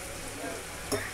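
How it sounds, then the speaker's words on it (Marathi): A spice tempering sizzles softly in hot oil with a steady, quiet fry and one brief clink near the end, with no talk. "फक्त आता फोडणीला घातलेलं आहे"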